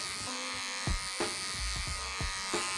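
Electric hair clippers fitted with a number 1 guard buzz steadily while blending a beard into a bald fade, a loud continuous hum with brief lower thumps as the blade meets the face, no talking.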